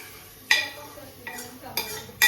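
A spoon clatters against a pan while chicken curry with onion is stirred, four sharp metallic scrapes spaced irregularly over a quiet background.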